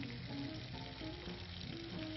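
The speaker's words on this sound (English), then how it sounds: "we'll get it sizzling in there" Chicken and mushrooms, with capers, fry in a pan over a gas flame, giving a steady, soft sizzle that carries evenly throughout without talking.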